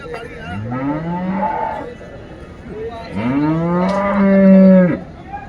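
Two deep, drawn-out lowing calls from a water buffalo close by at a cattle market, each rising and sustained, separated by a short pause.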